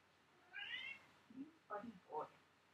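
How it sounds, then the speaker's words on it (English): A pet cat meows repeatedly while playing indoors: one drawn-out, higher meow followed by several shorter, lower calls in quick succession, close and moderately loud. "He's meowing a lot."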